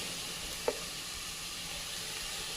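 Onions fry in a pan with chili powder for biryani, giving a steady soft sizzle throughout, with one brief faint tap partway through and no talk.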